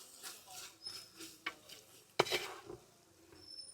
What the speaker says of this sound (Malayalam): എന്നിട്ട് നമുക്ക് എല്ലാം കൂടി നന്നായിട്ടൊന്ന് മിക്സ് ചെയ്തെടുക്കാം.